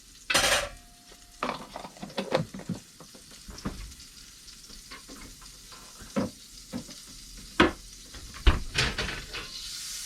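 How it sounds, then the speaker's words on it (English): Butter sizzling in a frying pan while french toast cooks, a steady soft hiss broken by close clinks and scrapes of a utensil against the pan, with no talking. "I'm going to go ahead and add some more butter to the pan"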